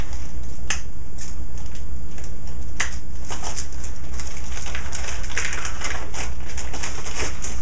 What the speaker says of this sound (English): I'm gonna grab my scissors and snip this.